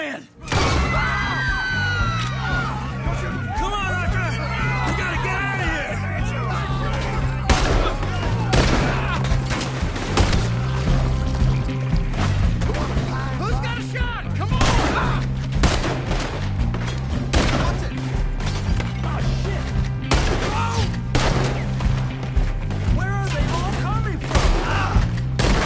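Gunshots during a shootout in the Red Dead video game, a steady busy stream of rapid shots and clattering impacts lasting throughout, mixed with shouting voices and game dialogue.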